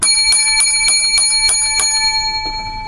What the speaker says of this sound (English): that's a nice, loud, crisp sound with that new bell